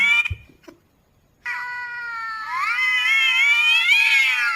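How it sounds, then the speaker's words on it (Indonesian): Cats yowl and caterwaul at each other, a short scuffle followed by a long, rising, wailing growl, loud and close. "Iya betul, kucingnya lagi berantemnya."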